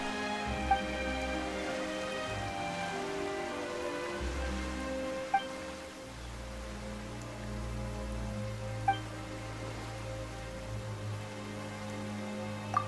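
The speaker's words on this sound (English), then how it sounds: "Why is it raining all of a sudden?" In the video game Genshin Impact, rain falls as a soft, steady hiss that blends into sustained background music and carries on evenly throughout.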